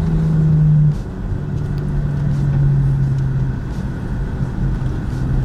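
GT4 race cars at the Pau Grand Prix street circuit, a steady engine rumble and drone from a car passing close by at speed, loud and continuous throughout, with no talk.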